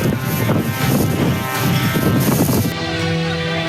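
Strong wind buffets the microphone near a forest fire burning through dry vegetation on the Tengger caldera rim near Probolinggo, a loud, rough, continuous rush that eases toward the end, with no voices.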